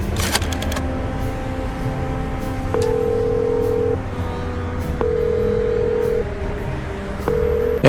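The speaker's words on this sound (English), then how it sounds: "Oh, I love the rotary phone." An old rotary telephone dialed in the detective video game Chicken Police: clicking dial turns and whirring returns, with tones repeating several times across the clip, close and clear.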